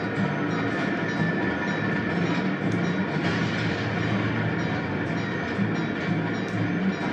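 Continuous rumbling of a train rolling along rails in the video game Sly 2, a steady mechanical drone with faint rhythmic clatter and no voices.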